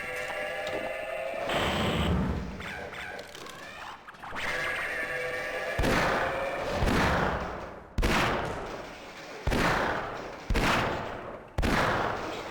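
Gunfire in Half-Life, rapid bursts of shots broken into several loud sections with sharp cutoffs, mixed with bleating creature cries and game noise, no talk.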